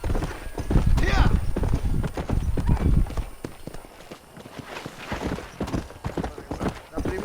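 Horse hooves clip-clop in a steady rhythm in the video game Red Dead Redemption, moderately close, with a whinny and other game sounds, while a voice talks over it.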